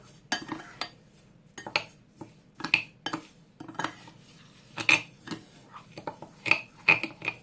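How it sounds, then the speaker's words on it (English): A spoon stirs bath salts mixed with essential oils in a bowl, scraping and clinking against the sides in quick irregular strokes, close and clear with quiet gaps between. "You really do want to give it a good stir because you want every little bit coated in your essential oil."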